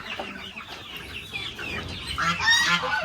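Village chickens, about twenty hens, cluck and squawk inside a coop built from reused construction materials, a busy mix of overlapping calls that grows louder and denser toward the end, with no talking.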